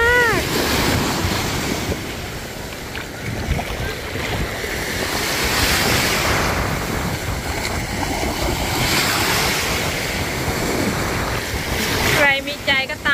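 Sea waves wash continuously onto the beach at Phra Tamnak in Pattaya, with loud surf and wind buffeting the microphone, while someone talks briefly at the start and again near the end.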